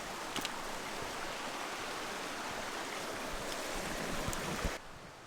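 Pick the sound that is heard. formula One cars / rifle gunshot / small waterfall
small waterfall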